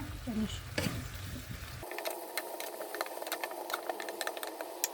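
Prawns cooked with Malabar spinach and potato are stirred in a pan, a quiet hiss under repeated clinking and scraping strokes, heard close after a short burst of other noise at the start.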